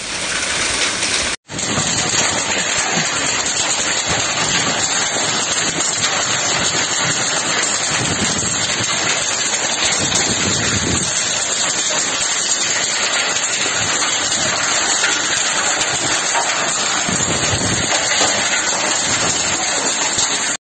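A heavy hailstorm with strong wind in Custódia roars as a dense, steady wash of noise after a brief cut near the start, loud and unbroken throughout with no voices.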